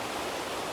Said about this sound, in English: I want to get in, you know, all of the cascades that are in front of this waterfall, and then the waterfall itself.